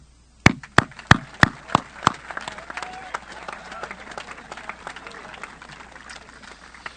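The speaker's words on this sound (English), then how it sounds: "give yourselves a round of applause" Applause at a high school graduation ceremony, opening with about seven sharp separate claps in the first two seconds, then settling into a steady, moderate crowd patter that fades gradually.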